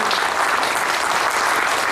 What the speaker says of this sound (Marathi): या ज्या टाळ्या आहेत त्या फक्त आणि फक्त माझ्या आजोबांच्या आहेत